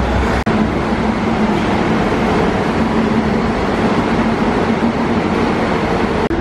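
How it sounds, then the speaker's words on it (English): Monorail train in Kuala Lumpur rolling along with a steady, loud, close rumble and a faint hum, continuous for several seconds with no speech. "I'm now going to catch a monorail train"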